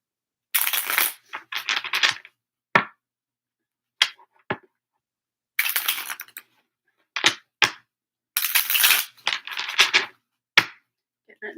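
Tarot cards shuffled in repeated crisp riffling bursts, close up and loud, with sharp single taps and clacks of the deck being squared between the riffles in a quiet room.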